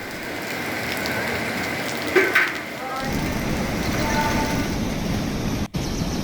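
Very heavy midnight rain pours down in Tekmal mandal, Medak district, as a dense, loud, continuous hiss with a brief break near the end.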